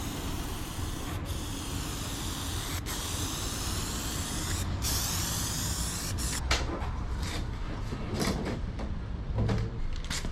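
Spray painting with Dulux Duramax gloss black, a steady broadband hiss of aerosol spray running throughout, close and loud, broken by a few brief pauses and sharp clicks near the end.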